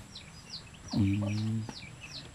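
A chicken gives a single drawn-out cluck, loud and close, over quieter background chirping from small birds.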